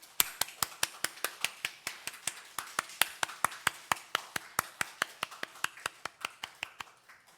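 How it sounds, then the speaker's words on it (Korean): Church congregation clapping in a steady, evenly spaced rhythm of sharp claps, about five per second, continuing for several seconds with no talk over them. "격려의 박수를 한번 다시 하면 좋겠습니다"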